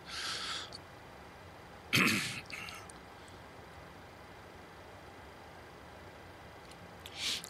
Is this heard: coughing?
yes